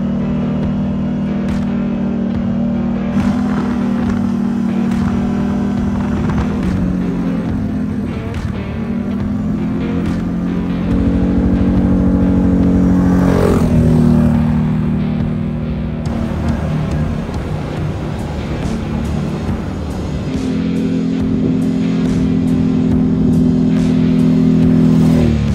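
CFMoto CForce 1000 ATV fitted with a stage 3 trail clutch kit, ridden in snowy mountains; a loud, close engine drones and revs continuously, pitch rising and falling with throttle and shifts, with wind and terrain noise.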